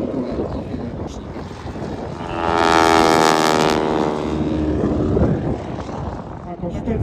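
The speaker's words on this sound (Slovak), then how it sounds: "Vyhľadajte si ten úžasný zvuk motora, toho hviezdicového motora" Grumman G-164 Ag-Cat biplane, registration SE-KXR, with its radial engine at an airshow swells into a loud, droning pass that peaks midway and then fades, with wind noise and talk in the background.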